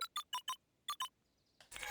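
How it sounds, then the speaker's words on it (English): Keypad entry beeps in the detective adventure game Beacon Pines, six short clean electronic tones in a quick uneven rhythm, followed by a faint chime and a rising burst of noise at the end. "Luca cracked his knuckles and entered the letters into the keypad"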